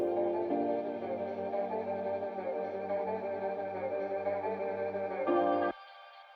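A sustained, swirling synthesizer pad in a drum and bass track holds thick chords with a chorus-like shimmer, shifting slightly before cutting off abruptly near the end.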